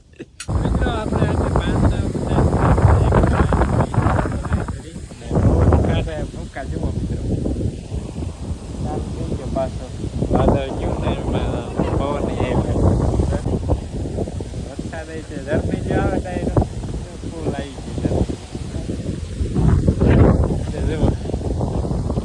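Strong wind roars and buffets the microphone throughout, a loud continuous rushing with gusts, while people talk underneath.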